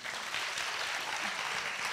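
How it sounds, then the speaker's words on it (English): Audience applause at a political leadership forum, a steady, dense wash of many hands clapping close by, sustained evenly throughout with no voices over it. "One more sincere round of applause."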